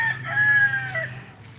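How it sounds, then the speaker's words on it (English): A Polish chicken rooster crows once, a loud, close, drawn-out call with a falling tail, over a low steady hum and no speech. "my one and only Polish chicken, he has been the coolest chicken"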